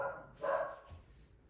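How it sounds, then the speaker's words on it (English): A dog barks a few times indoors at moderate distance, short sharp yaps, with a quiet room behind and no talking. "Bear with me while the dogs bark."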